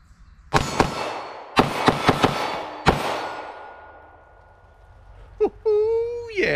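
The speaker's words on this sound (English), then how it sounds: "All right, first shots of the day. My customized Shadow 2 Compact." Gunshots from a customized, ported CZ Shadow 2 Compact handgun at a shooting range: about six sharp, loud reports in quick irregular bursts, each leaving a ringing decay, followed by a short whoop of excitement.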